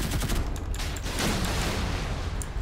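Rapid naval cannon fire from a USS Zumwalt warship in the video game Modern Warships, a dense continuous barrage of overlapping gunshots and booms, loud and steady throughout with no talk.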